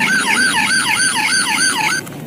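Toy police car giving a loud electronic wail up close, a fast, regular up-and-down warble repeating about six times before it cuts off abruptly near the end, with no voices.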